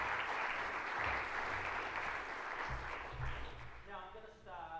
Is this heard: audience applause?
yes